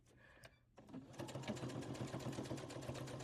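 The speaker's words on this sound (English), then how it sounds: "I'm just going to straight stitch all the way around." Sewing machine running a steady straight stitch around a fabric Easter egg shape with about a half-inch seam allowance, starting after a brief pause and then humming continuously with a rapid, even needle rhythm close by.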